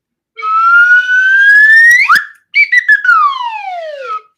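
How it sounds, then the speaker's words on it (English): A slide whistle glides upward in pitch for about two seconds, then after a short break swoops down in a long falling tone, loud and close with no voices. "Where's my slide whistle?"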